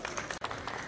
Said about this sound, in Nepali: जोरदार तालीले